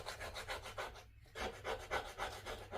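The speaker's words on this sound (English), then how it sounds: "Gotta get my original putty knife in here. My scraper." A putty knife scrapes repeatedly in quick, rhythmic back-and-forth strokes, close up and steady, with a single brief pause partway through.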